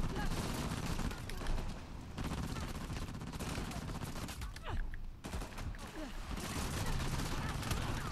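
Gunfire in the video game Uncharted The Lost Legacy, with dense bursts of rapid shots and sustained fusillades crackling through a chaotic firefight, fairly quiet in the mix with a few short breaks.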